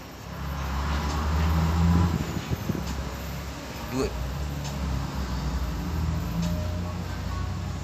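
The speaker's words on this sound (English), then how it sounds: "It was trucks passing." Trucks pass outside as a low, broad rumble that swells and then settles into a steady background drone, heard from indoors.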